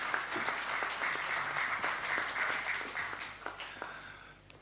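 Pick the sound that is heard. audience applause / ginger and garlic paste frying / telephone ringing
audience applause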